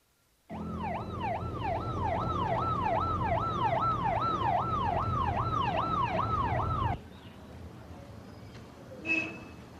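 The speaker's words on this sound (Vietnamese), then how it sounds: "Cô gọi ngay xe cấp cứu." A wailing ambulance siren sweeps up and down steadily and loudly for several seconds, then cuts off abruptly, leaving quiet room noise and a brief thump.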